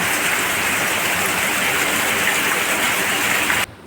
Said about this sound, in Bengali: ভীষণ বৃষ্টি হচ্ছে দেখতেই পাচ্ছ তোমরা